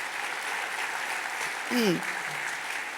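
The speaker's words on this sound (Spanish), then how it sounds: "Alguien tiene que darle un aplauso al Señor" A church congregation applauds during a sermon, a steady wash of clapping that holds evenly from start to finish, with a brief rising whistle-like tone partway through.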